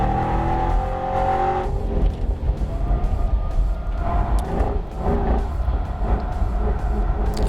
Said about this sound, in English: This engine sounds so good in this car.